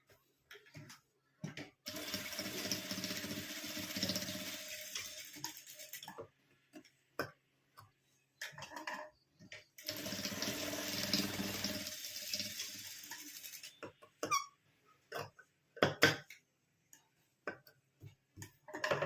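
A sewing machine stitches the corners of a homemade fabric school pouch in two long steady runs, separated and followed by softer clicks and handling noises, with no talking.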